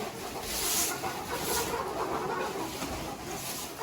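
Chickens cluck and murmur softly in the background of a flooded coop, a continuous low chorus of scattered clucks with no talking.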